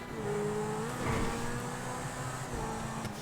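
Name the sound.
supercar engine driving in GTA 5 video game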